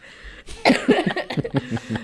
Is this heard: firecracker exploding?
no